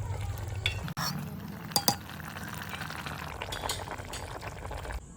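Dum ki bhaji boils in a pot on a stove, giving a steady close bubbling hiss broken by a few brief metallic clinks.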